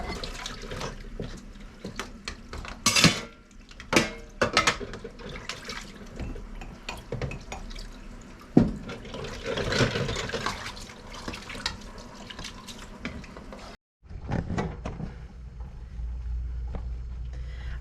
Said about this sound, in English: I'm sure you've seen a million videos on washing dishes